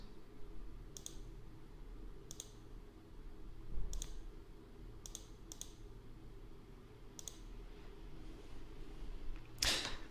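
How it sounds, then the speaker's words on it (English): Mouse clicks on a calendar icon to pick a date in a data-management form: about eight sharp, isolated clicks spaced a second or so apart, close and clear, with a louder rustling burst near the end and no speech. "can be selected by clicking on the calendar icon to the side"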